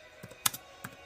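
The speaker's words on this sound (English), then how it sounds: "Not that fast typing on here." Fingers tapping a phone's touchscreen keyboard during an online ShellShock game, a few soft separate taps spaced irregularly over about a second, quiet and close, with no talking.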